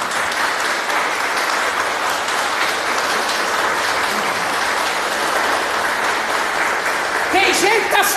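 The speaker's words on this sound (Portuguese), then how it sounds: "Pode aplaudir Jesus." A church congregation claps for Jesus in a dense, steady wash of applause that fills the whole stretch, with some voices rising faintly near the end.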